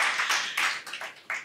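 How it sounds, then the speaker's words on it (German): A small group of children and adults at a kids' club Q&A give a short burst of clapping, a few hands patting unevenly in close, bright bursts that thin out and stop. "Das ist auf jeden Fall ein Applaus wert, würde ich sagen."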